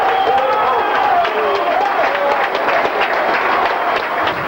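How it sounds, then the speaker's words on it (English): A rugby league crowd at Barrow versus Hull KR in 1999 roars loudly and steadily after a touchline conversion, a dense, sustained wall of cheering with no break. "there's a roar from the crowd"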